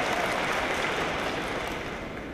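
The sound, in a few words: audience laughter and applause at graduation speech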